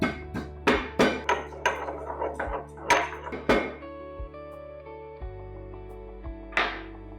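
About 1.5 inches of ginger pounded for clitoria flower tea, a series of heavy hollow thuds in irregular bursts, close and loud, with ringing tails between strikes and a final knock after a pause.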